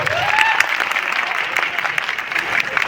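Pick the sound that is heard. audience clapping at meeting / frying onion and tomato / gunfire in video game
audience clapping at meeting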